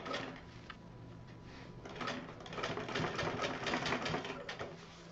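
A sewing machine runs steadily while stitching the flap of a fabric purse, a close whirring stitch rhythm that swells slightly toward the middle before easing off.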